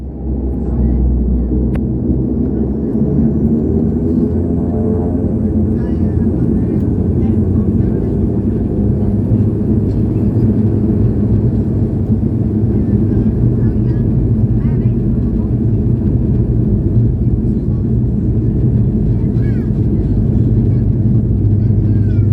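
Inside the cabin of an Icelandair domestic turboprop in flight, a loud steady engine drone and low rumble hold constant without pause.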